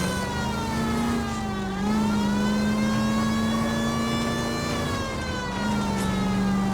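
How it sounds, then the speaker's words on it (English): A police car siren in the video game L.A. Noire wails loudly and up close in a steady rising-and-falling tone. An engine hums underneath as the car drives. "I have a siren, you should respect this"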